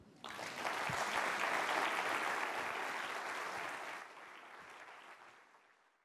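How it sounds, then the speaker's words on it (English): An audience applauds after a speech on climate action. The clapping rises quickly, holds as a dense, moderately loud patter for several seconds, then tapers off toward the end. "join me in applauding the Right Honorable Philip E. Davis"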